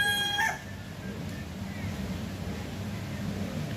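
A rooster on a farm lets out the brief tail end of a crow, then the air settles into a low, steady background hum.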